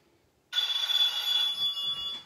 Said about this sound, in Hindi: हानिया फोन आ गया